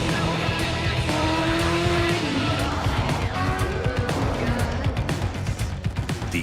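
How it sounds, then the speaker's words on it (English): A GMC Hummer EV accelerating hard from a launch, a loud, steady electric drive whine with rising tones and the rush of tires and road noise, continuous throughout with no talking. "the thrill of accelerating 0 to 60 in approximately 3 seconds"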